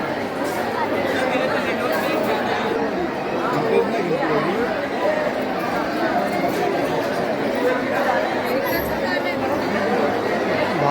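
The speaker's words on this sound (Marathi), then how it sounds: "भाविकांची गर्दी बघा किती आहे रविवार असल्यामुळे बघा खूप म्हणजे खूपच गर्दी आहे" A dense crowd of devotees chatters continuously at Jivdani (Mahakali Devi) temple on a busy Sunday, a steady, close wall of many overlapping voices with no single speaker standing out.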